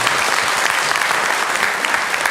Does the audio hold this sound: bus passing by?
no